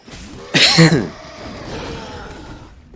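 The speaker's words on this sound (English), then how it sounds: "Sorry for the coughing." A single harsh cough bursts out close to the microphone, followed by quieter background sound.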